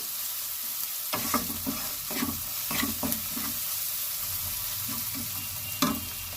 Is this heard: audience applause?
no